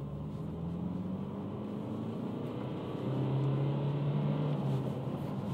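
A 115-horsepower Dacia Duster petrol engine strains as the car accelerates, a faint, strained drone heard from inside the cabin with a note that climbs and then steps up partway through.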